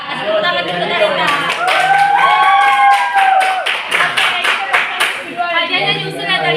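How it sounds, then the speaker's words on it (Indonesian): Applause in a school classroom, a burst of clapping from students over several seconds, fairly close, with voices talking over it. "Kasih tepuk tangan untuk Talita."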